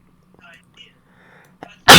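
One loud, abrupt sneeze bursts out at the very end after faint, quiet murmuring from a group playing a tabletop role-playing game.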